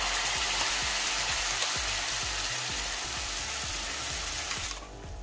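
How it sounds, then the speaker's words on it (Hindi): Spinach paste hitting hot oil in a kadhai, a loud, steady crackling sizzle with sputtering pops that holds throughout, then drops off sharply near the end. "ऑयल जो है वो अच्छे से गर्म हो गया है और हमने जो ये पालक का पेस्ट बना के रखा था ये हम इसमें डाल"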